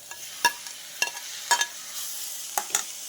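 Curry gravy is stirred in a pan, with a low background sizzle broken by sharp spatula scrapes and taps against the metal about every half second, close by.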